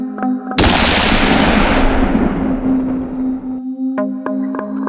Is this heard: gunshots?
yes